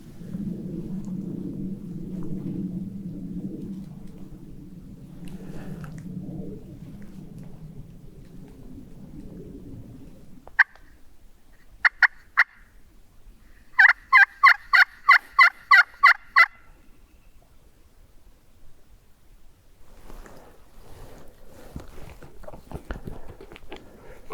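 A wild turkey gobbles on public land in grassy open meadows. A low rumbling stretch gives way to a few sharp calls, then a rapid burst of short, loud gobbling notes, followed by faint scattered sounds outdoors.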